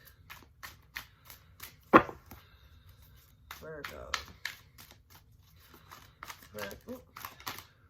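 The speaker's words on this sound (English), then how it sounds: "Shuffle these cards" Tarot cards are shuffled by hand during a reading, with quiet papery taps and flicks in an irregular series and one sharper slap. A voice speaks briefly between them.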